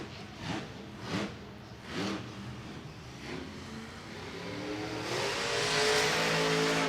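Max D monster truck engine at a Monster Jam show in an Orlando stadium, revving in repeated bursts and then building into a sustained, roaring acceleration with crowd-filled stadium ambience.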